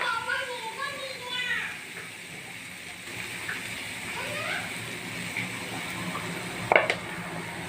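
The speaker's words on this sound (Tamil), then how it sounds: "வெங்காயம் நல்லா பொன்னிறமாக வதங்கட்டும்." Onions frying in hot oil in a home kitchen while cooking egg poriyal, a soft steady sizzle running throughout beneath a voice and children's chatter, with a brief clink near the end.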